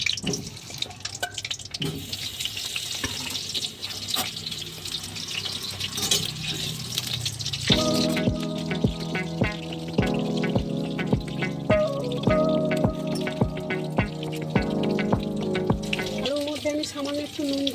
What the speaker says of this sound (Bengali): তেলটা গরম হয়ে গেছে, আমি আলুটা তেলে দিয়ে দিলাম।